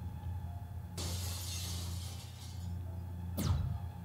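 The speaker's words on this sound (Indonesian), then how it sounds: "Wah, tamengnya hancur." A shield breaks apart in a Minecraft animation set in the Nether, a long bright shattering burst followed by a sharp glassy crash near the end, loud and close with no talk.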